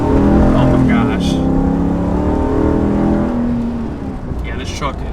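A 2022 RAM 2500 Power Wagon heavy-duty pickup accelerates off-road, its engine note rising steadily and loudly while people talk over it.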